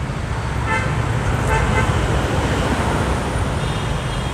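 Heavy traffic at a road junction in India, with a steady, loud roar of engines and road noise and several car horns tooting over it, most clearly in the first half.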